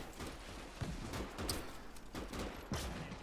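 Distant gunfire crackles in the WW2 game Gates of Hell during a Russian river crossing, scattered overlapping shots and bursts forming a muffled fusillade with no talk.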